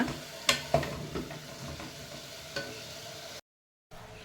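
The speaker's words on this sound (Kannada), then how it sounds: "ಸ್ವಲ್ಪ ಎಣ್ಣೆಯಲ್ಲಿ ಫ್ರೈ ಮಾಡಿ" Ingredients frying in a little oil, a soft continuous sizzle with a few sharp clinks of a utensil against the pan early on, then a brief silence before the sizzle returns.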